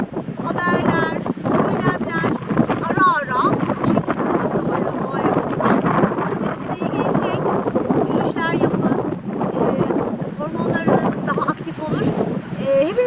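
Strong gusting wind buffets outdoors, roaring and rumbling steadily while a person talks over it throughout.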